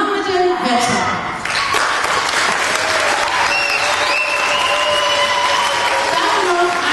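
A studio audience gives dense, sustained applause for a German TV show, with loud, continuous clapping under a few scattered whistles and shouts.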